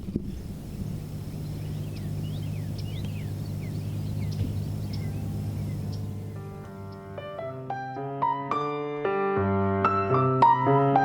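Spring birds chirp faintly outdoors over a low droning hum for several seconds, then bright melodic tonal notes take over in a rhythmic run.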